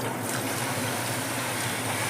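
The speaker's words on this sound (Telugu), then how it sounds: "ఇప్పుడు ఇందులోకి చక్కెర వాటర్ వేసుకోవాలి" Water pours steadily onto sugar in a pan to make syrup for boondi laddu, a continuous close gushing rush with no pauses or talk.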